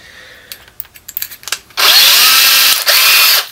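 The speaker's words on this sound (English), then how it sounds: "Drilling stainless, you need to go slow, but you need to have a lot of torque behind it." A few light taps and scrapes, then a loud power drill whines steadily for nearly two seconds drilling stainless steel for a brew pot, briefly dipping before continuing, close up.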